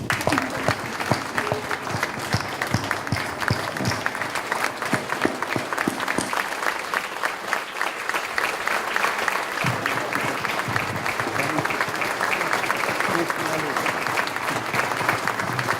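A museum audience gives sustained, dense applause for Colonel Jack Jacobs, Medal of Honor recipient, the clapping steady and loud throughout with crowd noise mixed in.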